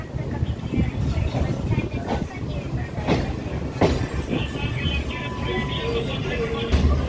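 A Kolkata Chakrarail circular suburban train runs under the Hooghly bridge with a steady loud rumble, rattling carriages and wheel clatter, with a faint high whine of wheels and some voices mixed into the din.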